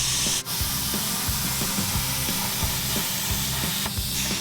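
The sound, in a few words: CNC plasma table cutting steel bumper parts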